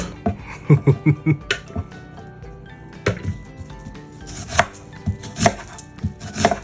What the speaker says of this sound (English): I'm just cutting into it because there's no way, no particular fashion that I want it to be in because it's going to be stewed.